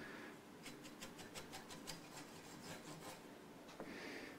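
Dust being wiped off a vintage 335-style semi-acoustic guitar, a steady soft rubbing with quick repeated strokes in a close, quiet room, alone without talk.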